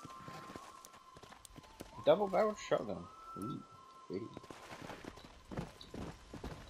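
Horse hooves clip-clopping in the Western video game Red Dead Redemption, a quick run of steady hoofbeats under someone talking over the gameplay.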